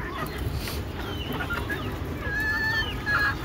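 Native chickens cluck and chirp near by in a farmyard, giving short calls over a steady background hum. A few higher squeaky notes come toward the end.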